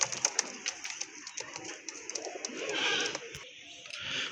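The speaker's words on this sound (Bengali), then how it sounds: "আরেক জোড়া কবুতর দেখতে পাচ্ছেন এখানে" Pigeons for sale in a collection of domestic and foreign breeds coo softly and close by, with chirpy calls and rustling amid a murmur of background noise.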